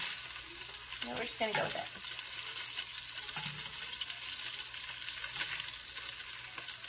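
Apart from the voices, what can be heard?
meatballs browning in pan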